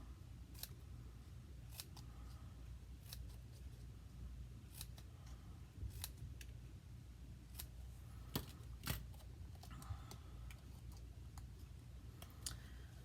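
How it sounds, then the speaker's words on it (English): Small snips cut through paper in a run of quick, crisp close clicks spaced irregularly across a quiet background. "We'll take our little snips and we'll start at the bottom and go up."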